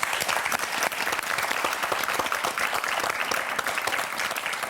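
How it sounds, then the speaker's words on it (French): Studio audience on a French television game show giving sustained, even applause, a steady wash of clapping with no voices over it. "Allez, on vous applaudit"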